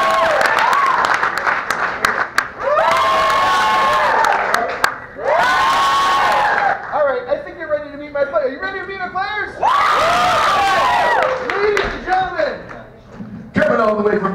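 Improv comedy show audience at SAK Comedy Club bursting into loud applause and cheering in two big swells, with whoops and shouts, while a host talks over it in between.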